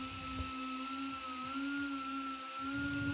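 A 2-inch pneumatic polisher sander fitted with a disc, used on a car headlight lens, gives a steady high air-driven whine with a low rumbling undertone, continuous and fairly close throughout with no talking.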